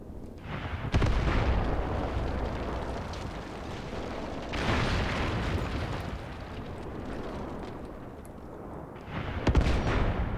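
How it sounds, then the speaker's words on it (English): A high explosive shell strikes an artillery gun in a WWII tactics game: a loud, broad blast near the one-second mark, another heavy boom midway and a third near the end, over a continuous rumbling backdrop of distant battle. "That was a direct hit onto the gun with a high explosive shell."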